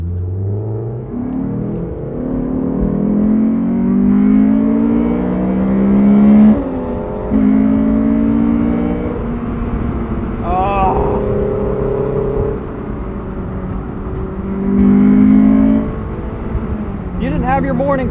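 A Honda S2000 engine revving high toward its redline on a morning drive, a steady loud drone with rising harmonic sweeps and gear-change dips, heard under continuous talking.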